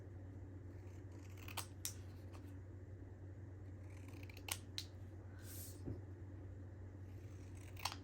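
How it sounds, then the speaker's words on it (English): Scissors cut out paper labels in a quiet room, giving a handful of crisp, close snips spaced irregularly over a faint steady background hum. "So this is how I usually like to cut out my labels, like this."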